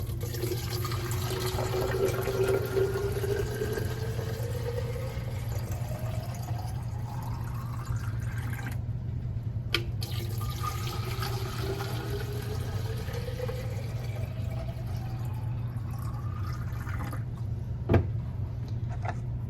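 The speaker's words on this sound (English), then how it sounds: "Now we're going to fill our waters with our electrolyte mix." Water runs into poultry waterers being filled with an electrolyte mix in a brooder room, rising in pitch as each container fills, with a short pause between two fills over a steady background hum.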